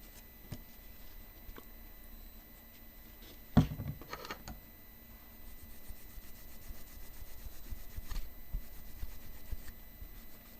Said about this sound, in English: really scrub the solder, get it in there